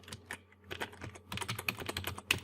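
Fingers type on a computer keyboard at a desk, sounding as a close, fairly quiet series of irregular clicky keystrokes in quick bursts with short pauses and no talking.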